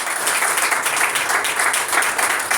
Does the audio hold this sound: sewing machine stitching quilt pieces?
no